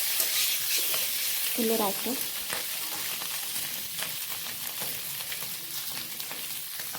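Potatoes for aloo dum fry in hot oil in a wok, a continuous close sizzle with stirring scrapes and a short spoken phrase partway through.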